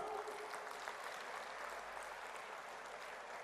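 A large audience at a World Telugu Federation gathering claps in a continuous, dense wash of applause that stays fairly faint and even from start to finish, with no voices over it.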